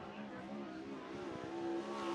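Sprint cars in 360 qualifying at Cottage Grove Speedway, a steady, sustained engine roar rising slightly toward the end, with tonal engine harmonics and faint crowd or commentary under the drone.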